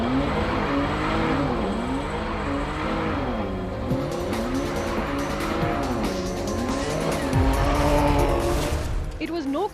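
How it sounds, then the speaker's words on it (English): Jaguar XE with a new 4-litre engine driven hard on the Navarra race circuit in northern Spain, the engine revving up and down through gear changes with tyre squeal, loud and close throughout. "it's the new 4-litre engine that we're going to test out on the track"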